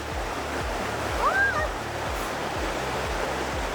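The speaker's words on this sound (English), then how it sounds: "Isn't there 2 waterfalls?" Steady broadband rush of water from a waterfall in Peru or Chile, continuous and close, with a brief high chirp partway through and faint voices in the background.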